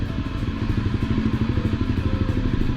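A motorcycle ridden on the road near Brisbane, Australia, with a steady, pulsing engine drone and wind rumble heard close up from the rider's position, continuous with no talking.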